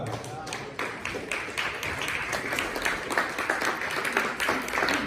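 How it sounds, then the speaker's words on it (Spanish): A church congregation claps after a sermon, a dense wash of applause that fills the space, with voices mixed in underneath. "Denle palmas a la palabra."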